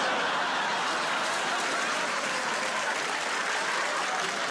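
Loud, dense applause from a comedy club audience at Russell Howard's stand-up show, a continuous wash of clapping held evenly throughout.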